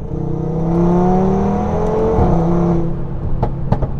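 A tuned Audi TT RS Stage 2 of about 600 hp pulls hard after a downshift, its close, loud engine rising steadily in pitch for a few seconds before easing off amid a few clicks and knocks.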